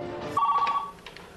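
A cell phone rings briefly during a test call made from an airplane at about 1,000 feet, giving a single short electronic tone burst, clear and close, followed by faint trailing sounds.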